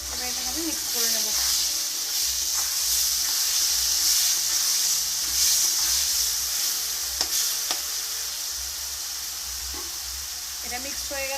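Food sizzles loudly in a frying pan as it is stirred and mixed, a continuous bright hiss with occasional scraping clinks of the spoon, and a voice speaks briefly over it.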